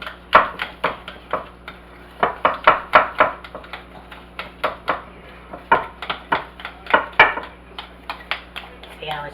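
A spoon clatters against a bowl while banana pudding mixture is stirred, giving a loud, close run of irregular knocks and scrapes that comes in quick clusters.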